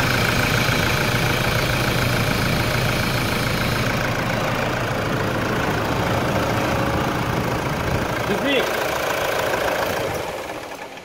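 A Toyota Hilux diesel pickup with a replaced engine idles steadily with a rough, knocking rumble, continuous and close, no voices.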